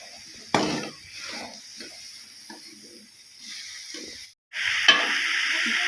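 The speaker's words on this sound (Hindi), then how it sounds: "अब आलू के साथ मेथी को तकरीबन 5 मिनट तक हम फ्राई करेंगे।" Potatoes and fenugreek leaves fry in a pan, sizzling steadily while a spoon stirs and scrapes through them. A brief silence comes before the sizzle swells up loud again, with no talking.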